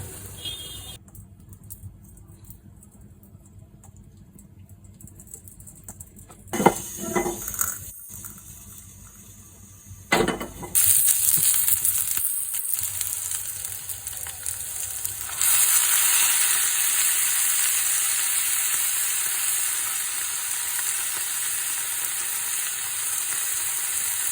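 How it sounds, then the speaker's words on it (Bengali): Spices crackle as they are tempered in hot oil for a stir-fry of taro leaves, red amaranth and helencha greens. Sharp bursts are followed by a steady, loud, close sizzle that continues to the end, with no talking. "এখন আমি বাগার দিয়ে নিব বাগার দিলেই কমপ্লিট হয়ে যাবে"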